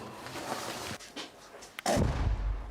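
Bombs strike near a village in a wartime night siege, heard as muffled distant thuds and cracks followed by a sudden heavy, rumbling blast that stays loud and booming to the end.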